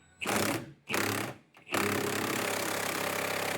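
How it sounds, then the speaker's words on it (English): A power tool tightens a stuck rear wheel hub bolt on a 2016 Ford Explorer, whirring in two short bursts and then in one long sustained run, loud and close. "We're gonna tension the bolt a bit more."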